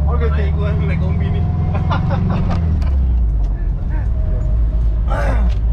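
Classic Volkswagen Kombi van engine while riding inside, a loud, steady low rumble that fills the cabin, with people talking over it throughout.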